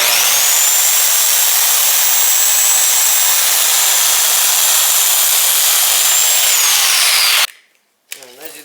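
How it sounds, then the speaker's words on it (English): A power saw cuts a wooden board for a raised garden bed made from pallet wood and dimensional lumber. It gives a loud, steady, high whine for several seconds and then stops abruptly, followed by a few faint scraping noises. "we're just gonna throw that other board up here and start cutting"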